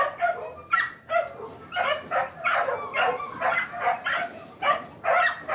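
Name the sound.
puppies barking and whimpering in a shelter kennel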